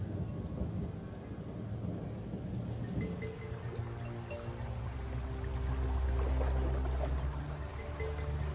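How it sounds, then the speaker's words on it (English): Steady heavy rain over African bush with low rolling thunder rumbling beneath, swelling and deepening toward the end; faint bird calls scattered through the constant hiss, no voices. "the rains came, and the drought was broken at last"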